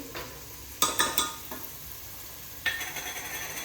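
Biryani masala for chicken biryani frying in a pan, a soft steady sizzle under a few quick spoon clacks and scrapes against the metal, faint and close, with no voices.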